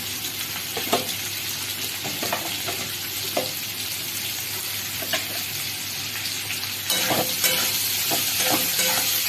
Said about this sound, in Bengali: দেখো কতটা পেঁয়াজ দিচ্ছি। এটার মধ্যে নুন দিয়ে দেবো, চাপা দিয়ে দেবো, আস্তে আস্তে কষে যাবে।